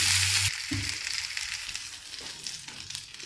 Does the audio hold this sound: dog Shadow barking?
no